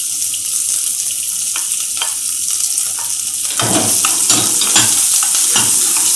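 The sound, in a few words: green chillies and asafoetida sizzling in hot oil for poha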